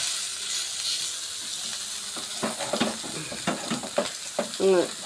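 Sardines frying in a pan give a steady close sizzle with bursts of crackle and spatter growing busier toward the end, and faint voices are heard underneath.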